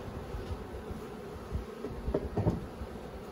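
Honey bees buzz softly on comb and honey frames in a long hive during a nuc install, a faint, steady hum with a few low knocks from handling near the end.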